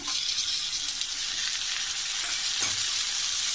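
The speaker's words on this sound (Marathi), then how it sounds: "आता याच्यामध्ये आपण एक बारीक चिरून हा टोमॅटो टाकूया" Finely chopped tomato frying with onions in a pan for chicken Kolhapuri, a steady close hissing sizzle with little stirring, no talk.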